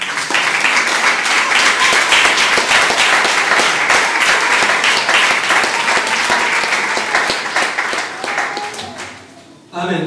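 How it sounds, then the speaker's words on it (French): A church congregation bursts into loud, sustained applause, dense rapid clapping filling the hall for about nine seconds before tapering off. "Acclame la parole de Dieu."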